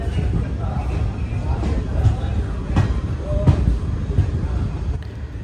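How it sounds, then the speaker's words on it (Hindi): ICF Janshatabdi Express train pulling out of Varkala Sivagiri station in Kerala, a steady low rumble of rolling coaches with faint rhythmic clicks of wheels over rail joints, continuous and fairly close. "तो दोस्तों हमारी ट्रेन जो है वो अभी वर्कला शिवागिरी रेलवे स्टेशन से निकल रही है"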